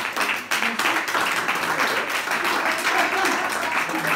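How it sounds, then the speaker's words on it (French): Audience applause at a slam poetry show in Tours, a dense wash of clapping filling the room steadily for about four seconds. "Applaudis."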